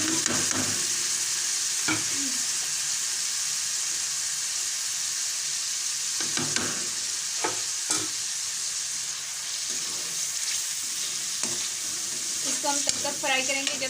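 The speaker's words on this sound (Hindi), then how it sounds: "इसको हम तब तक फ्राई करेंगे जब तक कि तेल किनारे से नहीं निकल आए" Tomato masala with spices frying in oil for fish biryani gives a continuous close sizzle, punctuated by occasional stirring scrapes and clinks of a spoon against the pan, with little talk.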